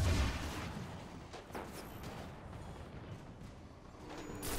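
A rocket fires in a tank combat video game: a single low boom at the start, then rumbling debris and scattered distant crackles fading out at moderate loudness.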